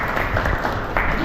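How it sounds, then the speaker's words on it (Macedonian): A crowd at a sports awards evening applauds an award recipient, giving a short burst of dense clapping with a voice speaking over it. "Аплауз за Ивана, еве наградата ќе биде доделена накнадно."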